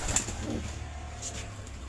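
Young racing pigeons in a loft give soft, low cooing calls against a quiet background hum, with a faint flutter of wings early on.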